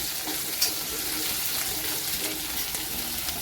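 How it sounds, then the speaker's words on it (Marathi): Green chillies sauté in a pan with a dense, constant sizzle, close and moderately loud, with occasional stirring scrapes and no voice over it. "हिरव्या मिरचीला पण छान परतून घ्यायचे"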